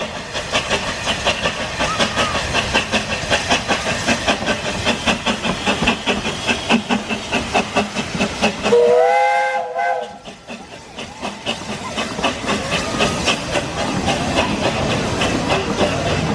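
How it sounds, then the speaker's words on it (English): A Whipsnade narrow gauge steam locomotive arrives at the zoo platform with continuous rhythmic chuffing and hissing steam, broken midway by a clear steam whistle blast before the steady chuffing resumes. "Here comes Whipsnade's narrow gauge steam locomotive"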